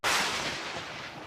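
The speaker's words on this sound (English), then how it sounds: "we're just gonna add in this thunderstrike sound effect." A thunderstrike effect added to a grungy trap beat in FL Studio cracks in with a sudden sharp onset, then rumbles and hisses as a short, fairly quiet decaying boom.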